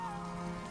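Rain in a cartoon storm scene, a brief, faint, steady patter with a faint tonal hum beneath it.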